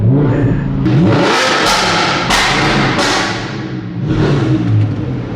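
Audi R8 engine with a loud flame-tune exhaust revving hard, with heavy booming pops and thuds over a sustained roar, several sharp bursts close to the microphone.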